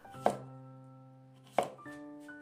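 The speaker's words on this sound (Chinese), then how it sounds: "我们准备1根洗干净的黄瓜，先去头去尾，再给它切成段" A knife chops a washed cucumber into sections on a cutting board, two separate crisp thunks more than a second apart, close and clear over a faint steady background tone.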